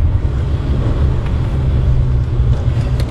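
Steady, loud engine and road rumble from inside a Citroën AX GT on the move, a constant low drone with no talking.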